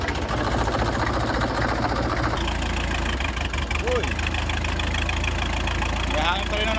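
Diesel engine idling after a carburetor adjustment, a steady low rumble with slight unevenness, close and loud throughout, with a brief exclamation from a man over it.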